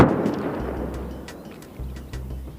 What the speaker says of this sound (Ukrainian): Чути вибухи.